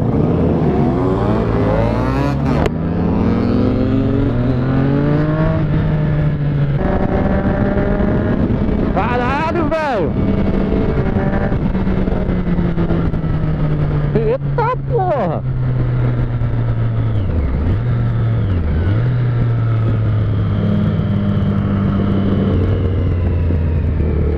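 A car revving hard and wearing out its tires in Curitiba, a loud continuous engine roar rising and falling with revs and occasional tire squeals, while people talk over it.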